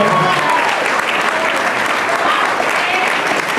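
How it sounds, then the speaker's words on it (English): An audience at a school soccer team banquet claps steadily in dense, continuous applause that fills the room, with voices faintly mixed in. "So give a round of applause to these boys for that."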